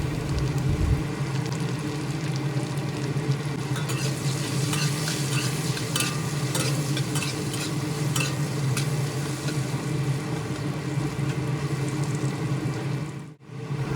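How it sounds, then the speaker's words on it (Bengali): Potato pieces fry in hot oil in a wok with a little salt and turmeric, giving a steady, loud sizzle with scraping stirs throughout and a brief drop near the end. "এখন এই গরম তেলে আলুর টুকরোগুলো দিয়ে সামান্য লবণ ও হলুদ সহযোগে ভালোভাবে নেড়ে চেড়ে বেশ লাল লাল করে ভেজে তুলে নেব"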